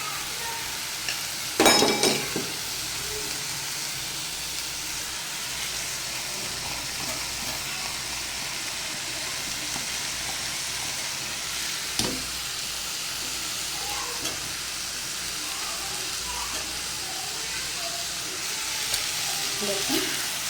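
Potatoes stirred with banana flower frying in a pan, a steady close sizzle and hiss with occasional louder scrapes of the spoon against the pan.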